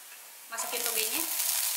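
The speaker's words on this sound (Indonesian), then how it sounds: "Sekarang lanjut kita tumis toge." Bean sprouts hit a hot pan for stir-frying, a sudden loud burst of sizzling that stays strong after a brief quiet moment, close by, with a faint voice briefly underneath.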